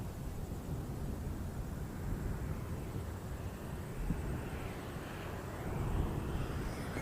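An ATR turboprop airliner approaches as a broad, distant roar that stays fairly faint and swells slightly toward the end, mixed with wind rush outdoors at a plane-spotting spot.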